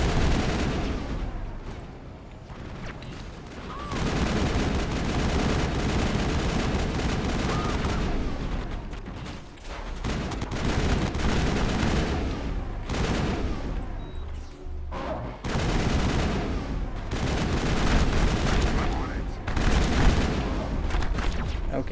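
Weapons fire in the video game Mass Effect as sustained, dense gunfire and heavy blasts roll on over the whole stretch, loud and close, with brief lulls between volleys.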